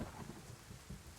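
Thunderstorm in the video game DayZ: steady heavy rain with low rumbling thunder, a fairly even roar with a stronger swell near the end, with no talk over it.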